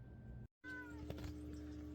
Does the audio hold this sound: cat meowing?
yes